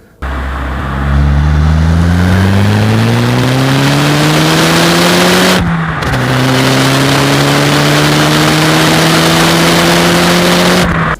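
Nissan Skyline GT-R of about 300 horsepower accelerating hard, loud and close, its engine note climbing through one gear before a brief shift and another rising pull.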